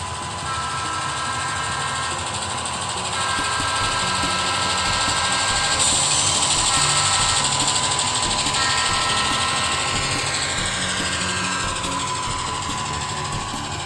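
A Rapido SD10 model diesel locomotive runs at full throttle, giving a continuous whirring motor drone with a buzzing mechanical tone that holds steady throughout, close and fairly loud with no talking.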